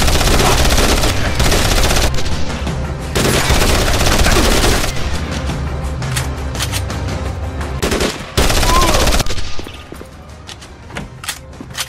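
Heavy machine gun suppressive fire in the video game Code of Honor 3, loud sustained bursts with brief pauses and thuds before the shooting thins out near the end.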